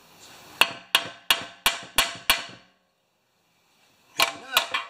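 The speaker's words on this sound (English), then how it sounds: "Okay, so brass hammer." A brass hammer strikes a Honda mower's sump to free it from the crankshaft: six sharp metallic taps in an even rhythm, a pause, then three more quick blows, close and loud.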